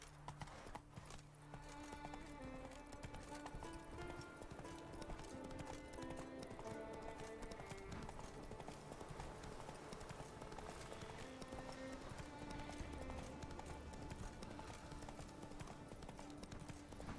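A horse in The Witcher 3 trots with a steady rhythmic clip-clop of hooves over layered game music, held at a constant moderate level for the whole stretch.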